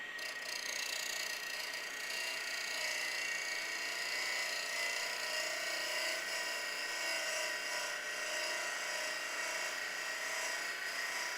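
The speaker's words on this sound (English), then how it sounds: "just moving the chisel really slowly across the surface of the timber" A wood lathe spins timber while a chisel cuts slowly across its surface to shape a toadstool house, giving a steady, dense high-pitched whirring hiss that holds unbroken throughout.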